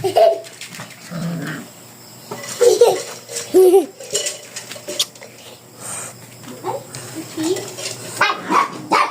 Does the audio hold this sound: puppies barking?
yes